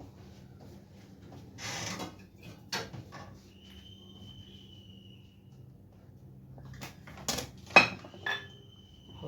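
A plate is handled in a home kitchen while breaded chicken nuggets are prepared, giving a few sparse clinks and knocks against quiet room tone, with one sharper clatter near the end.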